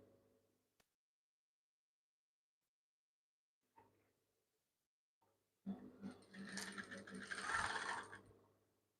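Sewing machine stitching down a two-faced fabric for a crisscross garment, a short burst of steady mechanical whirring near the end after quiet gaps and a few faint clicks.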